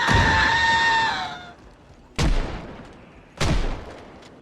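Gunfire in the zombie survival game Project Zomboid: a sustained burst fading out, then two sharp, loud single shots that ring off after a pause.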